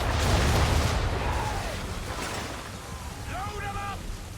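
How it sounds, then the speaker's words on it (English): Ship broadside cannon fire in Assassin's Creed 3, heavy booming blasts rolling out at the start and fading into rumbling low noise, with shouted game voices and battle ambience layered over it. "Fire broadside!"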